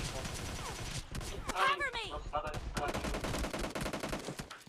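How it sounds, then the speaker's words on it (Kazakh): Pistol fire in the mobile battle royale game PUBG Mobile, a few sharp shots mixed into busy game noise, with a voice talking over the action. "Пистолетпен атсамыз."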